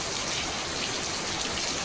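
Heavy rain falling on a house rooftop under dark clouds, a dense, loud, steady hiss of downpour filling the whole moment without any voices.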